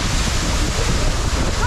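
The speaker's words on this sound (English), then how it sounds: "The wind here is something else." Strong wind roars and buffets the microphone near Yadim Waterfall in Adamawa State, Nigeria, a loud continuous rushing with no talk over it.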